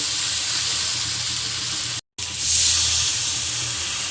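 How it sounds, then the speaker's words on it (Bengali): Boiled water poured into a hot pan of frying pointed gourd paste, a broad steady hiss and sizzle that briefly cuts out, then surges louder and brighter as the water hits the pan. "এটা কষানো হয়ে গেছে, এবার আমি সেদ্ধ জলটা দিয়ে দেব"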